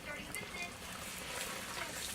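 Apple slices coated in pancake batter fry in hot oil as jalebis, giving a steady, soft sizzle that holds even throughout, with no voices over it.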